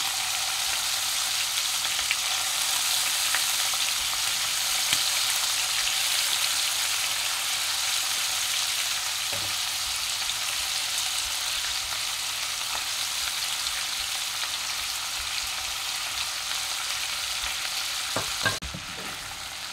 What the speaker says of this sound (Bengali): চিংড়ি মাছটা আমি ভেজে নিয়েছি।